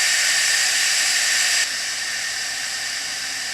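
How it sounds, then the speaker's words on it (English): Instant Pot Duo Evo Plus on quick release, venting a loud continuous hiss of steam from its release valve that drops slightly in strength partway through and keeps going steadily. "steam release valve will release a continuous stream of steam and that steam will be hot"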